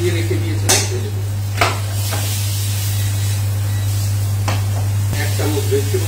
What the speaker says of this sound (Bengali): এখন যে চালটা আমি আগে থেকে ধুয়ে রেখে দিয়েছিলাম ঢেলে দেব।